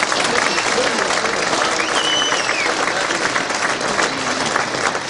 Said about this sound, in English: Give another round of applause for Kieran.